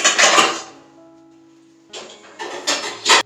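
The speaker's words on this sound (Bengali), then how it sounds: "কালকে রাতে অনেকটা বাসন ধুয়ে রেখেছিলাম, পুরো এক গামলি। ওগুলোকে এখন তুলে দিচ্ছি" Washed dishes and pots lifted out of a basin and put away, giving a few close clattering knocks of crockery and metal in two bursts separated by a quiet gap.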